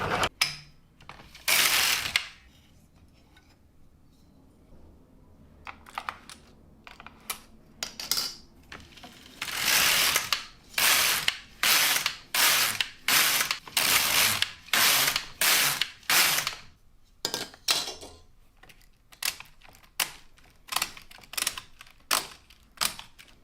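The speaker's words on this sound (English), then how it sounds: "Let's see if it will knit on my Lk-150." An LK-150 knitting machine works wool blend yarn, its carriage making repeated ratcheting clacks in a steady back-and-forth rhythm of passes, loud and close with brief pauses between them and no talking.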